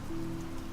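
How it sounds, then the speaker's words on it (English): Soft, steady rain patters in a quiet, even wash, with a faint sustained tone running beneath the gentle drizzle. "Eventually, the rain begins to slow, tapering into a whisper."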